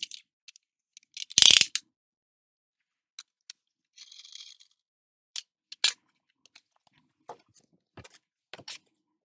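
Scrapbooking supplies packaging is opened by hand, with scattered crinkles, clicks and short tearing rustles, one louder rip near the start, all close and separated by silence.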